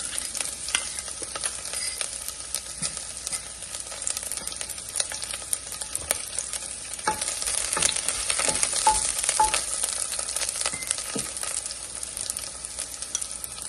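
Garlic frying in warmed oil for a veggie lentil soup, a steady close crackling sizzle running throughout with scattered sharper pops, no voices.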